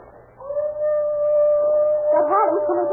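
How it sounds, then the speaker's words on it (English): A dog howls in a long, sustained, wavering tone that rises into yipping whimpers at the end, heard alone and fairly close in an old radio crime drama. "That howling's coming from around and back somewhere."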